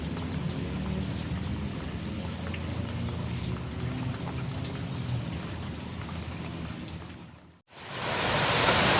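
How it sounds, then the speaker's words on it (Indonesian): Steady rainfall, a soft continuous patter of drops on surfaces with a faint trickle, heard alone, then cut abruptly near the end to a brighter, louder hiss of rain. "karena ini kondisi lagi hujan"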